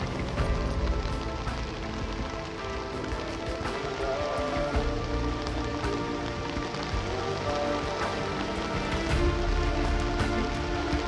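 Steady, heavy rain pours down continuously over wheat fields in Punjab, a dense hiss of drops drumming on surfaces with no voices present.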